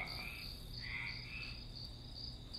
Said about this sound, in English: Right now she's doing crickets